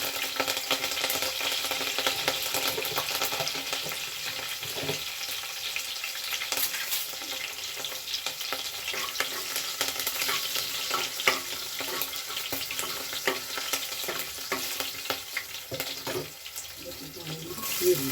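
Curry leaves frying in hot oil with cumin and mustard seeds for a potato kurma, a continuous crackling sizzle with scattered stirring clatter and faint background noise.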